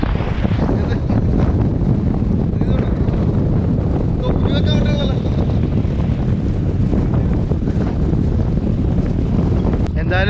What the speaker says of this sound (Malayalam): കാറ്റെന്ന് പറഞ്ഞാണ്ടല്ലോ അന്യായ കാറ്റാണ്.